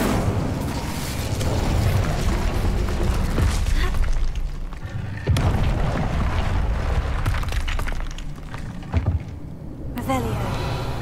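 A fire spell cast in Hogwarts Legacy gives booming, bursting blasts over a steady bed of game effects, loud and close with a few sharp hits along the way.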